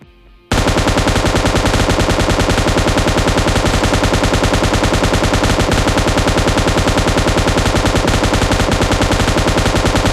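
Sustained automatic fire from a bipod-mounted machine gun in PUBG, with a long unbroken burst of rapid, evenly spaced loud shots after a brief quiet start, continuing to the end with no talk.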